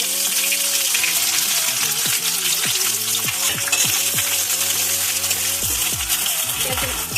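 Chopped onion dropped into hot oil with dry red chilli and bay leaf, frying with a steady loud sizzle throughout, scattered clinks of a utensil against the pan.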